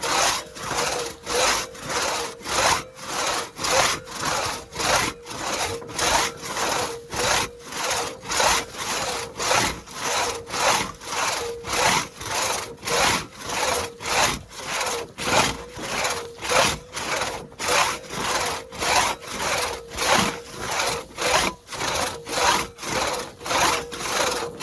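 A cross cut saw rips through wood in a long run of even, rhythmic strokes. Each rasping push and pull comes through clearly and close, about two strokes per second, with no speech.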